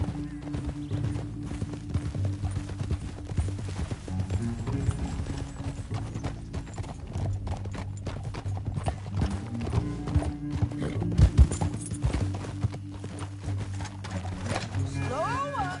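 Horses gallop in Red Dead Redemption 2, with steady clip-clop hoofbeats and a low rumble throughout, a brief whinny standing out near the middle.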